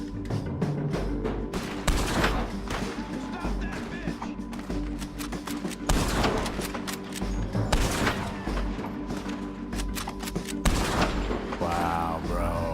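Gunfire in the video game Red Dead Redemption 2, with repeated loud shots and bursts, some clustered and some spaced, over steady game background sound, and a voice talking faintly at times.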